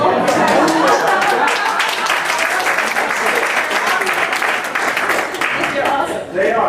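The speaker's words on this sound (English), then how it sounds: "I think everybody should give Angel a round of applause for those socks" Audience applause at a conference session, dense sustained clapping from a crowd filling the whole stretch with scattered cheers and chatter mixed in, easing slightly near the end.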